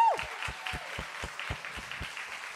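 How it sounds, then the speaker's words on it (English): A church congregation claps during a Sunday service, a moderate, somewhat distant round of applause with a brief whoop at the start and steady thumping beneath it. "Can we clap that up?"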